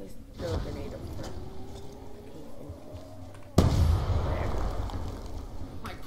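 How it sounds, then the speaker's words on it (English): A grenade detonates in a zombies video game: a sudden loud broadband blast midway through, followed by sustained rumbling debris over a busy game soundscape. "And I always throw a grenade up front."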